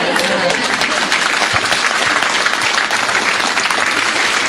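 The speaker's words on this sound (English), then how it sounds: "if we get one more round of applause" Seminar audience giving a sustained round of applause, dense steady clapping filling the room for several seconds.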